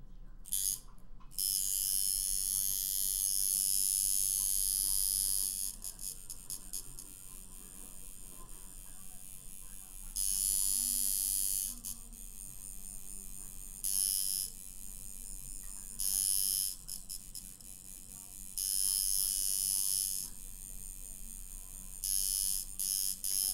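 A tattoo machine buzzes in steady high-pitched bursts that start and stop repeatedly while colour is packed into skin, with quiet pauses between runs.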